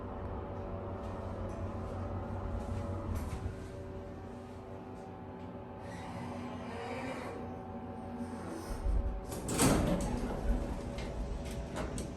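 A Schindler 300A hydraulic elevator door with a door clutch needing grease runs with soft ticking and a low rumble, then swells into a louder sliding clatter near the end.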